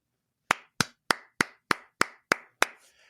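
A single pair of hands claps eight times in a slow, even rhythm, each clap sharp, close and dry, with silence before and no voices.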